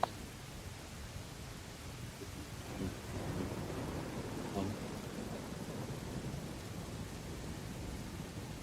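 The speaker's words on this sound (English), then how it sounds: "you can hear the storm is getting worse. The thunder, the cracks of thunder loud" A thunderstorm with steady rain hisses throughout while deep rolls and louder cracks of thunder swell midway, fairly close and heavy.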